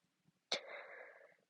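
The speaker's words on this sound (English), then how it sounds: "I'm going to sneeze." A single person's sneeze, one sharp burst followed by a breathy trailing exhale, fairly close, alone after a couple of faint sounds.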